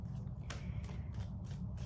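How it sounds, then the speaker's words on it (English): Tarot cards riffle and slap together in a quick series of soft shuffling bursts, close and quiet, with no voices. "I just shuffle the cards and read them."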